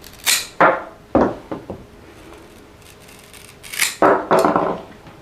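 Scissors cutting stem sections off a Philodendron Pink Princess plant: several close, crisp snips in two clusters with quiet gaps between, no voices.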